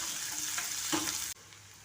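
Chopped onions fry with peanuts in hot oil for churmuri, a steady close sizzle that cuts off abruptly partway through.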